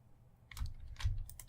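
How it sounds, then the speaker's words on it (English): Two quick, soft key presses on a computer keyboard, close and quiet, with no talking. "So I can clear that with Alt-I on the keyboard."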